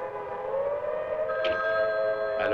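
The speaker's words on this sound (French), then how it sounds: "C'est une alerte, Marie." A loud alert siren wails steadily with a sustained, slightly wavering tone, and faint horn-like blasts cut through it.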